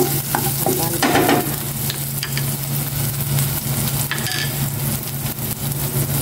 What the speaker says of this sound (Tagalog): Ngayon naman magsasangag ako ng mani.